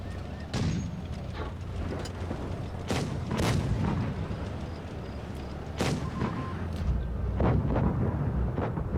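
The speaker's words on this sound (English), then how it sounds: "so I put in another shot of" Tank cannon shots boom out in the World of Tanks Blitz mobile game, several heavy blasts spaced a few seconds apart over a steady rumbling engine-and-battle bed.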